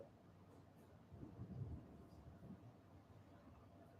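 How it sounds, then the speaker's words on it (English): Thunder rumbles low and distant, swelling for a second or two and then fading back into a steady background hush. "Oh, there's a thunder."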